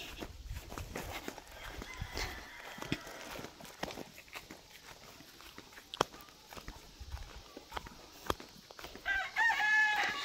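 A rooster crows and chickens cluck nearby at a school campsite, with scattered footsteps and light rustling; a brief whistle-like chirp near the end.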